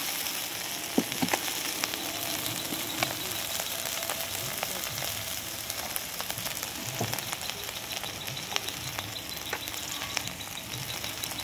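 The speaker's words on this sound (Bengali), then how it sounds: "পেঁয়াজটা ভেজে নিচ্ছি।" Onion frying in reused oil left from frying taro, a constant close sizzle with scattered crackles and pops and occasional soft stirring clicks; no talking.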